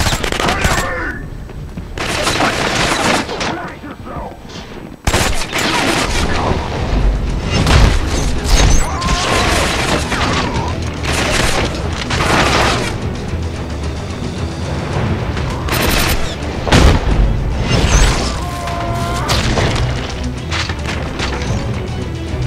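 Heavy, sustained gunfire and booming explosions from the video game Killzone: Mercenary on PS Vita fill a chaotic battle, with rapid bursts, crashes and blasts overlapping loudly throughout and voices occasionally breaking through.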